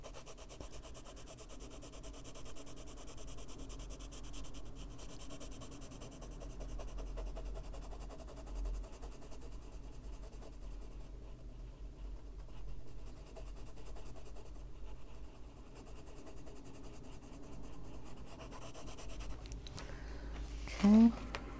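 An ochre colored pencil burnishes paper in a soft, continuous close-up rubbing and scratching, faint and steady throughout, with a brief louder knock near the end.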